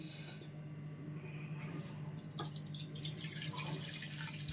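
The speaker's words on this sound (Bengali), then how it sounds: "এবার জলটা ফেলে দিচ্ছি।" Water drains away from soaked rice for a Bengali chhanch pitha, a steady quiet trickle and splash that grows busier and more spattery halfway through, with no talking.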